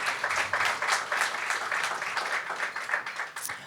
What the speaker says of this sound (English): let's have a round of applause for our phenomenal speakers